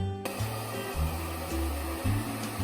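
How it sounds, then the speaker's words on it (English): A SOVARCATE professional hair dryer runs with a steady, close airflow whir and a low motor hum, pulsing slightly as it is moved, with no talking. "This is the SOVARCATE Professional Hair Dryer."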